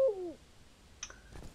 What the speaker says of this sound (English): Yeah, I hear you, Owl.